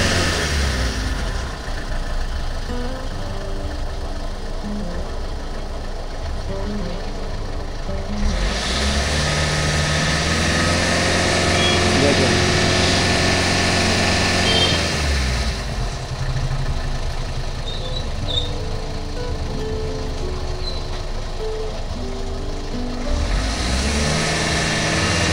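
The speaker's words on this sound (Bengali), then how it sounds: "এখান থেকে অ্যাক্সিলেটারে চাপ দিচ্ছেন" Vehicle engine running at idle during a pollution check with a probe in the exhaust, rising into two loud sustained revs as the accelerator is pressed, then dropping back, continuous and close.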